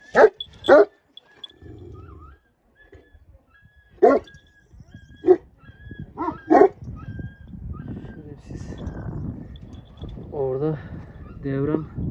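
Dogs bark in sharp separate bursts, near and loud, on an outdoor walk after rain and hail, with a few whimpers and yips between; later a person talks and a dog whines over rustling ground noise.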